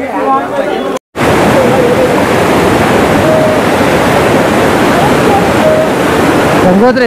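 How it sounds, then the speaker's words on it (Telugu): The Bhagirathi river rushes at Gangotri in a loud, steady, close roar of churning water. A brief voice sounds at the start, then a short gap, and the torrent continues unbroken to the end. "గంగోత్రి నది."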